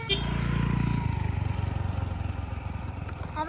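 A scooter engine putters nearby with a fast, pulsing mid-pitched rhythm, louder at first then settling into a steady idle-like throb that fades slightly toward the end.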